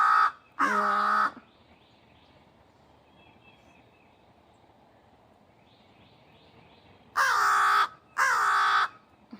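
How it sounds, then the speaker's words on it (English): Blackbirds calling noisily outdoors, one harsh, loud caw-like call near the start and two more close together near the end, with quiet background between them. "blackbirds being noisy."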